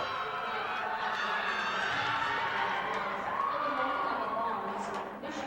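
A crowd of Iowa Hawkeyes fans cheers and shouts at a women's gymnastics championship meet, a sustained roar in a large arena with scattered whoops, heard under a commentator's voice.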